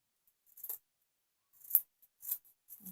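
Scissors trimming the fabric bottom of a miniature 1:12 scale dollhouse bed, a few sharp, quiet snips separated by short silences, close and isolated.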